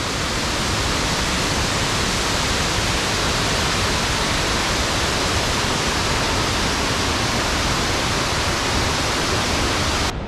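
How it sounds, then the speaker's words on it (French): A loud, steady roar of a waterfall in the Tyrol, Austria, broadband and unbroken, filling the whole clip without any voices. "Hop, et là on a la cascade."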